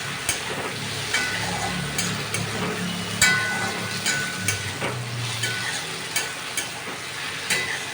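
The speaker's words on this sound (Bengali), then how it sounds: "আদা রসুন কিছুটা বেটে রেখেছিলাম, সেটাকে আমি এর মধ্যে দিয়ে দিলাম। দিয়ে এবার আমি এটাকে একটু কষাতে থাকলাম।" Ginger-garlic paste sautéing with a rohu fish head in a hot pan for muri ghonto, a steady close sizzle with repeated stirring scrapes and clinks throughout.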